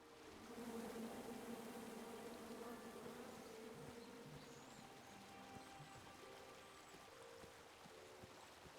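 Angry bees swarm out of a struck beehive in the King's Quest video game, a continuous, faint, droning buzz that holds steady for several seconds with no talking.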